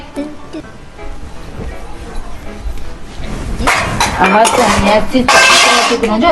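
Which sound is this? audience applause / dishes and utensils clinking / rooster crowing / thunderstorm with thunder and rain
dishes and utensils clinking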